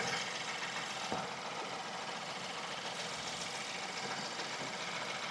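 Rebuilt car engine idling after a head gasket repair, a steady faint hum with light mechanical ticking, running alone without voices.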